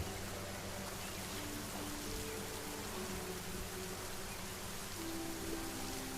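Rain in the survival crafting video game Solar Punk falls as a steady, even hiss of pattering drops, continuous and moderately quiet throughout.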